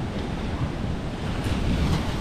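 Waves roll in along the seashore under strong wind, a continuous rumbling surf wash with wind buffeting the microphone.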